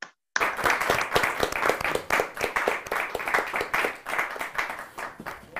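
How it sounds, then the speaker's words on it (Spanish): Loud, sustained applause from an audience at a literary gathering, steady clapping that starts abruptly after a brief silence and continues throughout. "con un fuerte aplauso"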